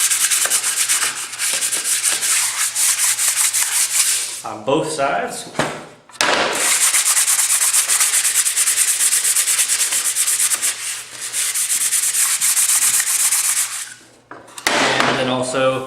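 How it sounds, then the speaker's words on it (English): Sandpaper rubbing over cut holes in a wooden computer desk case panel, steady close harsh rasping in long continuous strokes with brief pauses, a short spoken remark in between. "I'm just going to go over quickly with the sandpaper, give it a good sanding."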